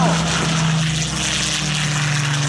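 A Mosquito's Rolls-Royce Merlin propeller engines drone steadily and loudly throughout, a low harmonic hum with broad rushing noise, as if passing close by.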